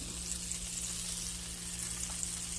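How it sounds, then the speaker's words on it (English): Bacon sizzles on a grill with a steady, close, crackling hiss over a low constant electrical hum, and no one speaks. "I'm going to let it just simmer down around on the grill a little bit"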